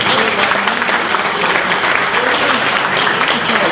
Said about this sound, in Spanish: Este aplauso es para que viene por primera vez